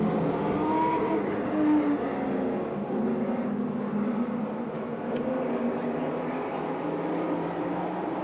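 Late model race cars accelerate out of turn 4 on a race track, producing a continuous, broad engine roar that holds steady throughout at a moderate distance.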